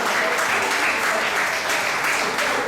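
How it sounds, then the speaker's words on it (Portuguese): A church congregation claps together in sustained, dense applause, loud and steady throughout without pause. "Você pode dar uma salva de palmas ao Senhor?"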